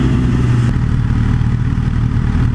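Motorbike engine close by, a loud, rough mid-pitched drone that holds steady with slight revving as it passes on a downtown San Diego street.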